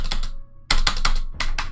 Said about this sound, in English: Slamming on my keyboard.